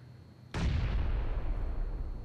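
A grenade blast erupts in a video game firefight, a sudden heavy boom that rolls into a long rumbling decay over a quieter ambient bed.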